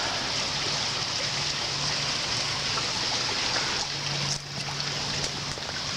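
Creek water flows beneath a railroad bridge with steel beams, a steady, broad rushing and trickling hiss, close by and continuous, with a low hum underneath and no voices.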